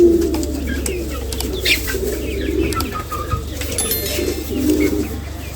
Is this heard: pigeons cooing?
yes